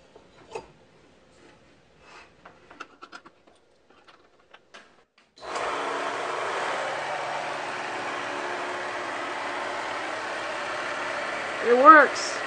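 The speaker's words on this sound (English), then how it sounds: "I'm using a 1/3 horsepower furnace motor that came from the garbage." A salvaged 1/3 horsepower furnace motor drives a homemade belt sander, starting abruptly after a few faint taps and settling into a steady, loud whirring drone with a brief louder swell near the end.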